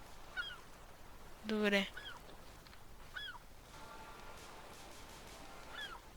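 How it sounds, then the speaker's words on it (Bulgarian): Birds calling in the survival video game The Forest: several short, squawking honk-like calls, one louder harsh burst and a few fainter chirps spread over a quiet background, with a brief spoken word. "тези птички, сега ако ги убия"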